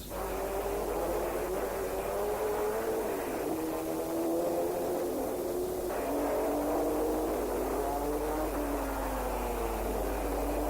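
Late-1950s racing cars, a DB4 Aston Martin and a 3.4 Jaguar with an Austin Healey, roaring at speed on a circuit; a continuous engine drone with rising and falling revs, fairly close, no voices over it.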